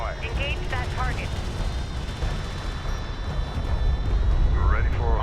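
Rapid gunfire and heavy explosions rattle through a video game battle involving a railgun and armored vehicles, loud and continuous, with radio-style voices calling out orders over the combat.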